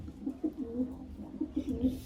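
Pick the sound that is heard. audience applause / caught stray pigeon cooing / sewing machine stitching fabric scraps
caught stray pigeon cooing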